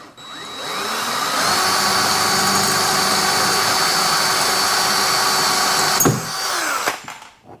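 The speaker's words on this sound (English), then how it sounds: "So I got to get this drilled out now." A power drill bores a hole through a metal bar, running loud and steady for about six seconds with a sustained whine, then stutters and winds down.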